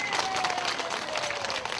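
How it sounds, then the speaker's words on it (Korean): Applause from an outdoor audience at a Buddhist temple's filial-piety festival honouring elderly guests, offered to the head monk; steady dense clapping over crowd noise, with a thin tone running through it. "박수 한번 크게 보내주시면 고맙겠습니다"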